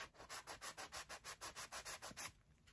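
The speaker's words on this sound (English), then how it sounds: "I like these sanding blocks at the angle." An angled sanding block working the carved detail of a wooden mantle clock; about a dozen quick, even rubbing strokes in a steady rhythm, close but fairly quiet, then a brief pause, with no talk.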